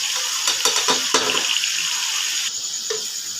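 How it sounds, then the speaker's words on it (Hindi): Spices of black pepper, coriander and turmeric powder frying in hot oil in a pan, a steady sizzle with a few stirring scrapes near the start, continuous and close without speech. "मसाले को हमें अच्छे से फ्राई करना है।"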